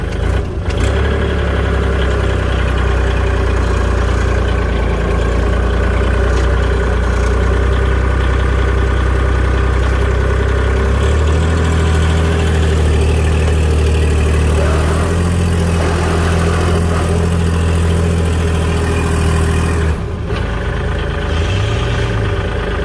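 A loud tractor engine, an old long-unused machine being revived, idles steadily nearby, a deep continuous rumble with a slight shift in tone partway through.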